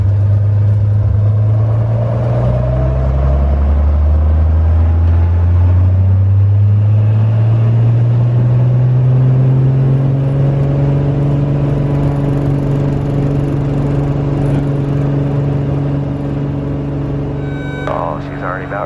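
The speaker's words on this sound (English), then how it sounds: "We'll hold the brakes, get this thing up to full power, and just let her rip." Loud, steady roar of a modified 300 hp Cessna 182 engine run up to full power with the brakes held, its pitch climbing and then holding high and sustained for the whole stretch, close and unbroken.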